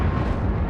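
A fire spell cast in Hogwarts Legacy, a dense, roaring burst of fiery whoosh that fills the short moment, loud and continuous with no talk over it.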